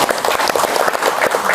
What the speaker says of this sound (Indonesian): Kita berikan tepuk tangan di hari ini.